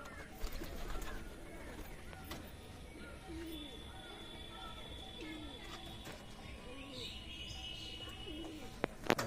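Soft, low coos from native Giribaz roller pigeons repeat close by among rustling and light bird chatter, with a few sharp clicks and scuffs.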